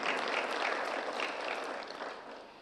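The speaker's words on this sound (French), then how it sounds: "Ces applaudissements vous sont destinés." Audience applause at a meeting of African Union chief executives, a steady, fairly faint wash of clapping that tapers off at the end.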